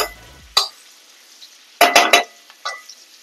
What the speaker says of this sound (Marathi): आलं लसूणचा कच्चा वास येईपर्यंत आपल्याला हे परतवून घ्यायचं आहे